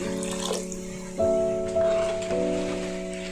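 Water poured into a pan while cooking Maggi noodles, a continuous close splashing stream with a steady tonal ring over several seconds.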